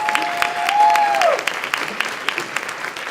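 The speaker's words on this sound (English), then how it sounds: "let's give them another round of applause." Applause from an audience at an MLK essay contest and parade event honoring young women and choreographers, a steady wash of clapping lasting about three seconds with a short whistle-like tone early on.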